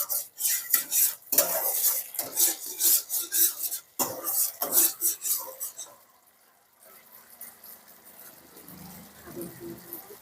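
Chili chicken is stirred in a metal pan, with busy scraping and clinking of the utensil against the pan for several seconds, then a quieter stretch of faint sizzling.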